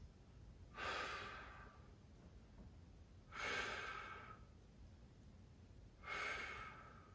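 Three slow, audible exhalations about two and a half seconds apart during a stretching routine for pain relief and posture, each a soft breathy whoosh rising from a quiet background, with no talking.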